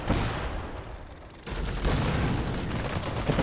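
Gatling mech and bazookas fire in the Iron Harvest real-time strategy game, making dense, continuous battle noise with overlapping bursts and blasts that grow louder halfway through.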